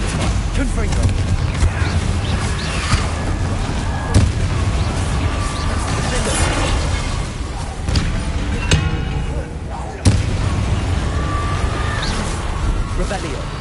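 Confringo fire spell bursts in Hogwarts Legacy on PS5, loud booming explosions and sharp impacts amid a dense, continuous game battle soundscape with a voice shouting over it.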